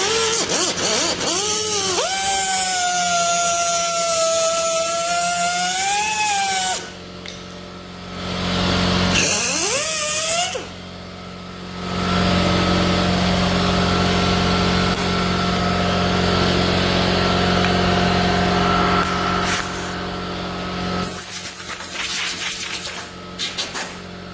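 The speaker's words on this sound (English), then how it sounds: "shut the air compressor off here" Air compressor in an auto body shop running loud and close, a steady motor hum with a whining pitch that surges and cuts out several times over about twenty seconds.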